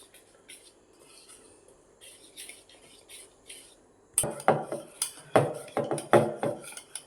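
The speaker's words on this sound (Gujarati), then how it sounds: "આ રીતે મિક્સ કરી લેવાનું બરાબર ખીરું" Batter for kapuri paan leaf fritters (kharkhariya) being mixed by hand in a bowl: a soft ambient stretch, then a run of close, loud clinks and scrapes of a utensil against the dish in an irregular stirring rhythm.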